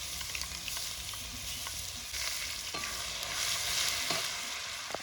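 Cumin seeds and ginger-garlic paste fry in hot oil in a clay pot over a village wood-fired chulha, with a steady, dense sizzle and a few sharp clicks of stirring, growing slightly louder toward the end.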